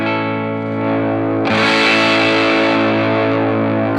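An electric guitar runs through an Abrachinsky Effects Enigma V2 drive pedal with the guitar's volume knob turned all the way up: a sustained, thick distorted chord rings out, then a harder strum adds bright crunch midway.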